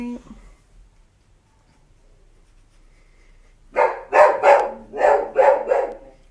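An agitated indoor dog lets out a rapid series of about seven loud barks in two clusters after several seconds of near silence, with a brief voice at the very start.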